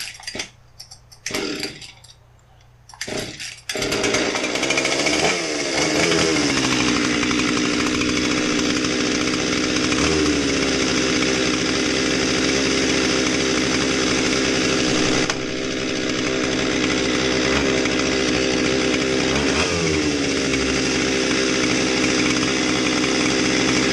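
Husqvarna 257 chainsaw, just repaired with a new fuel line and trigger, is pulled over a few times, then catches and runs loud and close for a long stretch. The engine holds a steady idle with occasional revving.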